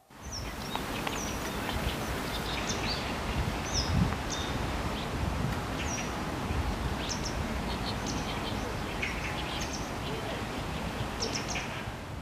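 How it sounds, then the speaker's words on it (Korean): Sparrows chirp in short, scattered bursts over a constant rush of wind through an outdoor setting, with faint voices murmuring in the background. "참새소리. 바람소리."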